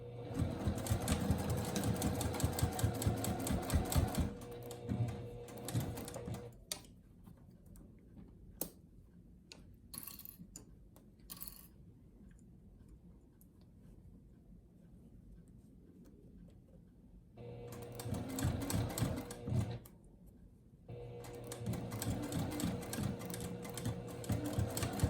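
A sewing machine stitches pleats on a four-layer fabric face mask in rapid, close ticking runs. It stops for a quiet gap in the middle, then starts again for two more bursts.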